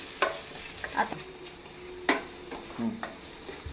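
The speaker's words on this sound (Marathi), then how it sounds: "तो आता मातसो एक 2 मिनटां बरो फ्राय करून घेवया." Chopped tomatoes frying in a pan for chole, heard as a low, quiet simmering sizzle broken by several sharp spatula scrapes and taps against the pan.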